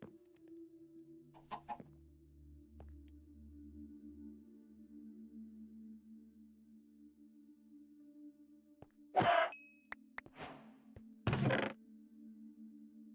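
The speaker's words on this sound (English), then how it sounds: "Why he spawn a chicken in my house?" A chicken clucks in the video game From the Caves: a few short, sharp bursts, fairly near, over a low steady hum with sparse faint sounds in between.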